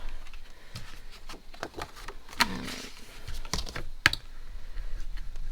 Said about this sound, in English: let me get out